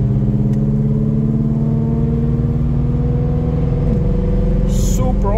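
BMW E90 sedan with an N55 engine on a Stage 3 drag-mode tune, engine droning loudly and steadily under hard acceleration, with a pitch shift near the end as it shifts gears.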